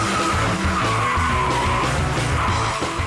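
A Lotus Exige cornering hard, with a loud, sustained tire skid and squeal over the engine noise, held at close range and unbroken throughout.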